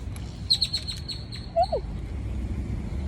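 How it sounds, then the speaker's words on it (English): A bird calls nearby, first a quick run of sharp high chirps, then a short swooping call, over a faint background hum. "Oh my God, that bird just came for me."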